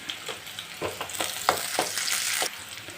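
Curry leaves and onions fry in hot oil, a close crackling sizzle with several sharp spatter bursts and a few stirring strokes over three seconds, no voices.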